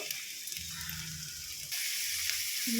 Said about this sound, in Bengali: দেখুন, গাজর দিয়ে দিলাম, গাজরটা লাল লাল করে ভেজে নেব।